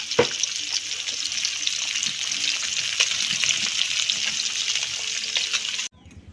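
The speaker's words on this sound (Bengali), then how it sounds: "আর এবারে বাকিগুলোও বাজিয়ে নেবো।" Small puti fish frying in a pan for a village-style winter vegetable curry, giving a loud, steady, close sizzle for about six seconds before it cuts off abruptly.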